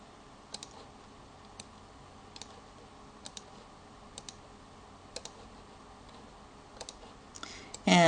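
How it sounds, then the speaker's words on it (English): Sparse, sharp clicks picking out student names on a class management screen, single and paired taps spaced about a second apart over a quiet room hum, then a louder burst at the end. "So I'm going to click a few students here."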